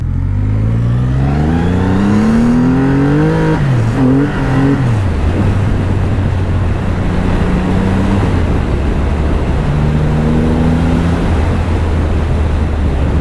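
A Kawasaki Ninja H2 sportbike ridden on the highway between Vadodara and Ahmedabad winds up hard, its engine note climbing to a shift, then settling into a loud steady drone and rising again under heavy wind rush.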